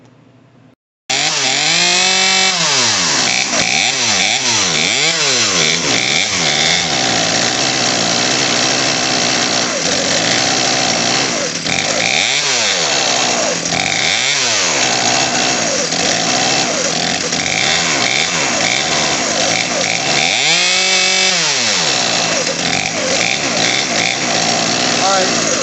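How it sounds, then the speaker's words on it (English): Craftsman chainsaw running after a carburetor fuel line kit install, loud and close, with its engine idling and repeatedly revving up and back down in long swells throughout. "You'll hear the RPMs come up."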